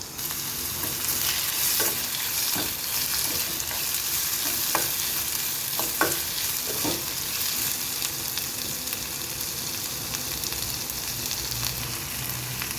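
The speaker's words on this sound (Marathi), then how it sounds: "यातच मी 1 मध्यम आकाराचा कांदा चिरून घातलेला आहे आणि 1 मध्यम आकाराचा टोमॅटो. हे व्यवस्थित परतून घ्यायचं आहे आपल्याला." Chopped onion and tomato sautéed in a pan for a wal usal, with a constant close sizzle broken by repeated spatula scrapes and taps, no voices.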